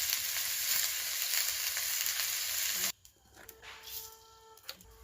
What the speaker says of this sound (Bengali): সয়াবিনটা ভিজিয়ে রেখেছিলাম, সয়াবিনটাও এর সঙ্গে একটু ভালো করে নেড়ে নিই।